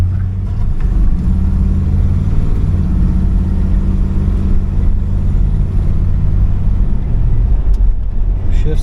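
A 1973 Chrysler Town & Country wagon drives on a road, heard from inside as a steady low engine rumble and road noise that holds throughout, with a brief higher click near the end.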